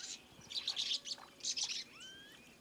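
Small Galapagos finches chirp in a wild island setting: bursts of quick, thin tweets repeat through the clip, followed by a rising whistled note, fairly faint and without any voices.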